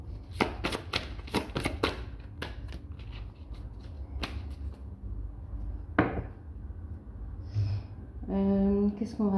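Angel love oracle cards handled and shuffled: a quick burst of crisp riffling card flicks, then scattered slaps and taps, close and fairly loud, with a voice speaking briefly near the end.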